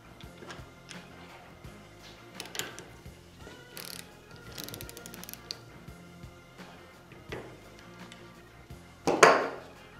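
Ratcheting clicks and metallic clatter of a torque wrench tightening the center bolt on a WP AER motorcycle fork, irregular close ticks and clanks building to a louder burst at the end.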